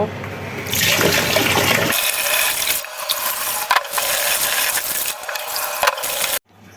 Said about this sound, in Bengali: চালটাও ভিজিয়ে রাখতেছি ভালো করে ভেজে নেব